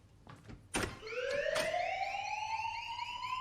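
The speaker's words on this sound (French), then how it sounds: "l'alarme se déclenche" An alarm sounding inside a laboratory, a single steady electronic tone that starts abruptly and keeps rising slowly in pitch, loud and continuous, after a few sharp clicks and knocks, with no voices.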